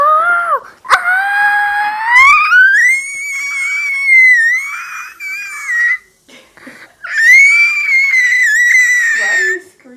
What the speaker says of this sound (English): Why are you screeching?